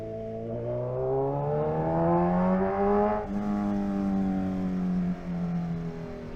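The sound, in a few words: Kawasaki Z1000R motorcycle engine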